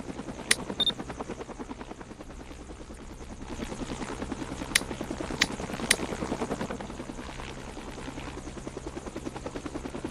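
Helicopter in a Roblox Vancouver fire department game, its rotor chopping steadily and close throughout, with a few sharp clicks cutting in over the continuous beat.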